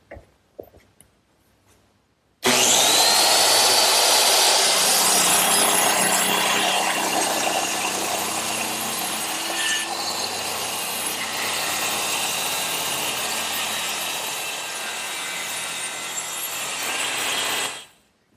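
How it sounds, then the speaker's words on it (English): A circular saw spins up loudly and cuts through two nailed wooden gable pieces clamped in a bench vise, with a sustained, close, high whine for about fifteen seconds before it winds down. Faint clicks come before it. "I'm ready to cut them with my circular saw"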